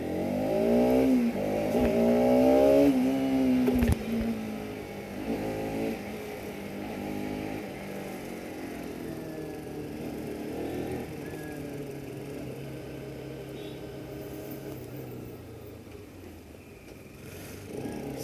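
A Bajaj Pulsar RS200 motorcycle exhaust revs up and settles, its engine note rising and falling loudly up close before easing into a steadier, lower drone.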